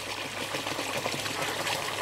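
Water flows steadily through bio-balls in an IBC tank of an aquaponics system, a constant close trickling and splashing wash without pause.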